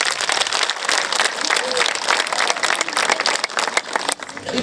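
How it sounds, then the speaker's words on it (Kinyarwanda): An audience applauds at an outdoor community sports event, a loud, busy stream of many hands clapping up close, with a few voices mixed in and a brief dip near the end. "niho amashyi"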